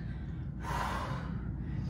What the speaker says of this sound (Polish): Wdech i wydech.